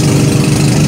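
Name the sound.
pump boat engine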